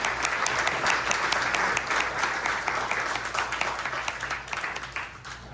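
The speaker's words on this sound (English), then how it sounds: "Can we give another round of applause to the entire library staff," An audience at a Los Angeles city charter reform commission meeting applauds the library staff, a sustained patter of many hands clapping at moderate distance that slowly thins toward the end.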